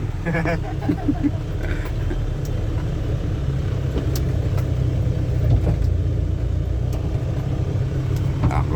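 A dump truck's diesel engine rumbles low and steady while driving, a continuous heavy drone with faint rattles, and people talk inside the cab over it.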